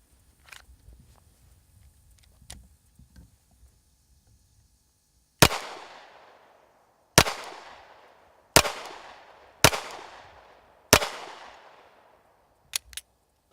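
Five sharp 9mm hardball gunshots strike an armor plate in a loud, irregular sequence, each a hard crack with a decaying ring, followed by two smaller, quicker impacts near the end after a quiet stretch of faint handling noise.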